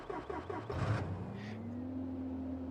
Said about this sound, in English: Foot on the brake, we're gonna fire it up.